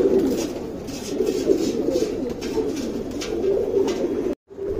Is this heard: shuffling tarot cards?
no